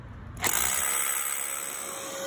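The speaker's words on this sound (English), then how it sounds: "now we're going to drill our holes on the offside" A power drill drills holes while a Universalift 11KACD lift is installed, whirring up sharply and running steadily, close by, with a high motor whine and no talking.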